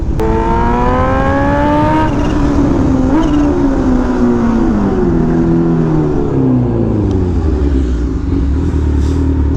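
A Kawasaki Ninja H2 motorcycle roars through a tunnel in a loud, close pass, its engine note sweeping steadily downward as it goes by and fades, with heavy reverberation and no talk.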